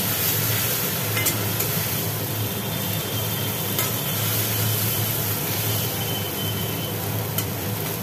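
Chili-spice paste of ground green and ripe chilies frying in oil in a pan while being stirred, a steady close sizzle with occasional scraping strokes, and no talking.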